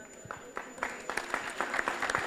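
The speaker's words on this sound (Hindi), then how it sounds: "जोरदार तालियों से स्वागत रुकना नहीं चाहिए।" Audience clapping to welcome a guest at a women's leadership panel event, a scattered round of claps that builds from sparse to denser over a couple of seconds, heard at moderate distance.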